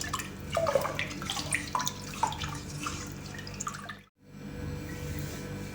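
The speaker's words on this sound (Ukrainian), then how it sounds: "І заливаємо розсолом огірки." Salt brine poured over cucumbers in a jar for fermented winter pickles with mustard, a close trickling, splashing pour for about four seconds before a brief silence and a quiet room hum.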